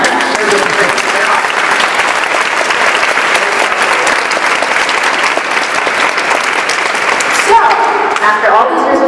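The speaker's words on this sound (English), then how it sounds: "So you can clap for that." Audience applause at a personal story talk: loud, dense, sustained clapping from a crowd that continues steadily from start to finish.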